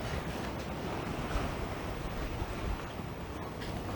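Steady wind buffets the microphone on an overcast Barbados coast in a constant broadband rush, with a surf-like roar underneath and no voices.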